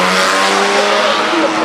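An Aston Martin DBR2 race car, a chassis originally built for a cancelled Lagonda, roars loudly and close at the Goodwood Festival of Speed 2019, its engine note steady and dense for a brief pass.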